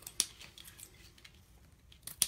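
Scissors snip ribbon at an angle in a quiet room: two crisp, close cuts spaced about two seconds apart, with faint rustling in between.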